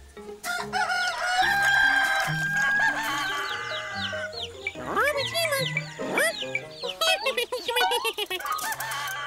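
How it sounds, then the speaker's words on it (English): A cartoon rooster crows loudly with long rising and falling calls, followed by clucking fowl, while a child and other cartoon voices talk over and between the crows. "I wonder why he's crowing."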